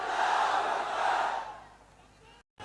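A large crowd at a Maharashtra AIMIM political rally roars a slogan in unison, loud and sustained, then fades away over about two seconds before a brief cutoff.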